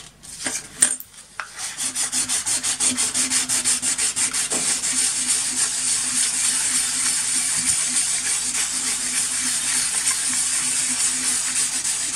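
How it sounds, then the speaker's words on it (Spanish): Steady, continuous scratchy rubbing of sandpaper against a surface, close and fairly loud, with a brief knock near the start and no voices. "Luego continúo lijando usando lijas más finas cada vez."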